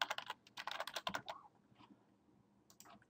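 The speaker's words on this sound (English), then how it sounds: "select my text tool and type something" Quick bursts of typing on a computer keyboard while entering text in After Effects: rapid clustered key clicks, then a pause and a few scattered, softer keystrokes, close and quiet with no talking.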